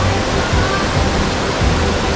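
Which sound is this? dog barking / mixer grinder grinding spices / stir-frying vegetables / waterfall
waterfall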